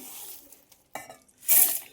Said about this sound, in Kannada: ಇವಾಗ ಇದನ್ನು ನಾನು ಮಿಕ್ಸರ್ ಜಾರಿಗೆ ಹಾಕೋತಾ ಇದ್ದೇನೆ.